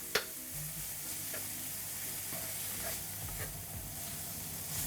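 Ground meat and onions fry in a pan with a steady, close sizzle, broken by a few soft stirring scrapes and clinks from the utensil.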